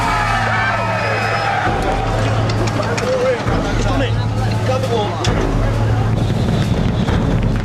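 A BriSCA F1 stock car race engine fires and keeps running, a loud close throbbing drone with revving swells, under voices and commentary.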